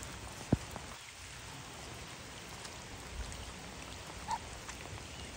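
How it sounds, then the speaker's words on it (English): Rain falls outdoors around a duck bathing in a puddle, a faint, steady patter with a few soft drops and knocks, no voices. "It's raining"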